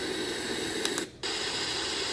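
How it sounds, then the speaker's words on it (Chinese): Steady broadband white noise like a hair dryer blended with old television static, played as a baby sleep sound, continuous and loud with a brief dip near the middle. "第二种呢，比较像是介于吹风机，"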